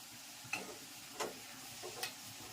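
Quiet sizzling of a spice tempering in oil in a pan, with chili, turmeric and coriander-cumin, and three or four brief scraping stirs of a spoon against the pan.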